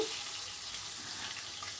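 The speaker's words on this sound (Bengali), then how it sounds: "এবার ম্যারিনেট করা মাছটাকে আমি দিয়ে দিলাম। দিয়ে এবার একটু ওলট পালট করে ভাজা ভাজা মতো করে নেব" Marinated catla fish frying in mustard oil, a soft, even hiss of sizzling that carries on steadily and quietly throughout, with no voices.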